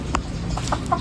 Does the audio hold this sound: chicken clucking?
yes